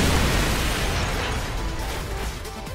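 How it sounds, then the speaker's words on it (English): A grenade blast in Call of Duty 4 on the Backlot map, a loud booming burst with heavy low rumble that decays slowly across a few seconds. "where you can throw this nade"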